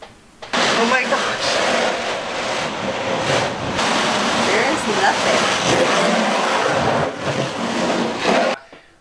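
A loud, steady rush of water blasted hard against the seams of a school bus skylight for several seconds, broadband and continuous, cutting off abruptly at the end.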